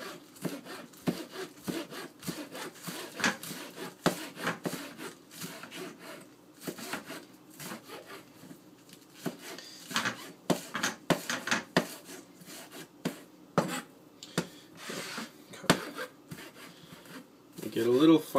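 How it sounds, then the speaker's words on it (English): A knife finely slices an ingredient on a cutting board, giving repeated close rhythmic strokes at an uneven pace, with a few louder clatters among the cuts. "I'm just going to slice it finely"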